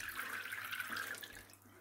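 Water sprinkles steadily from a homebrew sparge arm onto the surface of a mash, a soft, continuous patter and hiss close to the microphone with no talk.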